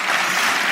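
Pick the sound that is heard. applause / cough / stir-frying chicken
applause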